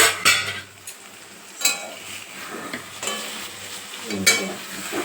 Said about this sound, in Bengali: এবার ঢাকনাটা উঠাবো, দেখি কি অবস্থায় আছে।